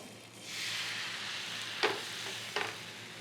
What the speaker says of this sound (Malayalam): ഇനി മാവ് നല്ലതായിട്ട് ഇളക്കിയിട്ട് ഒഴിച്ചു കൊടുക്കുക